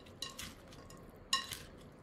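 A utensil scrapes and clinks against a pan of frying food in a couple of quick bursts, with a faint sizzle underneath.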